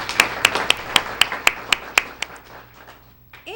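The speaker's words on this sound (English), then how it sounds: "so we can give you a great hearty round of applause" Audience applause at a high school Student of the Month ceremony, heard as a few sharp, evenly spaced close claps that thin out into scattered clapping and a brief murmur.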